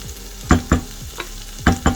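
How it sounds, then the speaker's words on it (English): Hidol hutki chutney frying in a pan over medium-low heat, with a soft steady sizzle broken by a few sharp spattering pops and stirring scrapes close by. "we're going to fry that on medium heat, for medium to low heat, for about 10 minutes"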